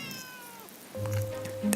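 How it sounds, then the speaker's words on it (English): A street cat close by lets out a loud, drawn-out meow, then a shorter second one, over faint background noise. "The cat is meowing at me."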